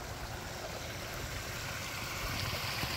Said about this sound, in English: Thought I'd start off with the waterfall, my favorite thing.